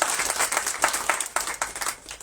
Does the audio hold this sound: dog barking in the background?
no